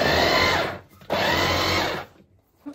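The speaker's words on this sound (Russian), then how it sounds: "Мы взяли, короче, эту картошку тоже в этом блендере измельчили." A kitchen blender chops potatoes in two loud bursts of high whirring, each about a second long, separated by a short pause and then cut off into near silence.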